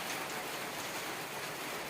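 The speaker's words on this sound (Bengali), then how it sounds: "বৃষ্টি বৃষ্টি পড়ছে কয়েক ফোটা করে" Light rain falling in scattered drops in a village, a soft even patter of wash and hiss with no voices.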